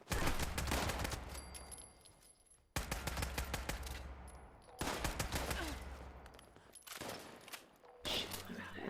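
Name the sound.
machine gun gunfire in a video game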